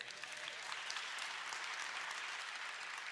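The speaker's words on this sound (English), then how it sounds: "Applaud Senator Raoul." A crowd at a political gathering applauds for Senator Raoul, many hands clapping in a steady, even roar that holds for the full few seconds.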